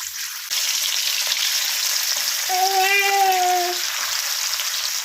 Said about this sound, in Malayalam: അപ്പോൾ നമുക്കിതിലേക്ക് മീൻ ഇട്ട് കൊടുക്കാം.